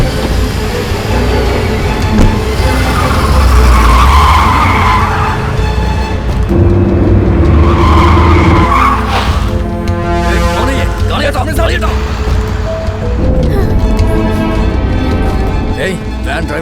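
A car pulls away with tyres skidding and engine roaring loudly, the squeal and rev rising and falling over several seconds amid music and voices, with a horn-like tone in the mix.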